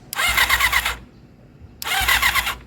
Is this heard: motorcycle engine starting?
yes